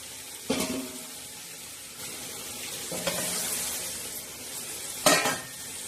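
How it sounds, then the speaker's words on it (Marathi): Chicken for pulao, given a tempering of spices, sizzles and fries steadily in a pan while being stirred, with three distinct scraping stirs standing out over the constant frying hiss. No one speaks. "आता हे छान असं हलवून घेणार आहोत।"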